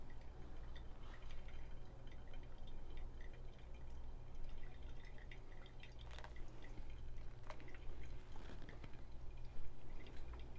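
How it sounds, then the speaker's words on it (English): Water trickles and drips steadily onto ground coffee in a pour-over brew, a soft continuous liquid patter with faint ticks, close by and alone with no talking. "I'm going to add another 100 grams of water."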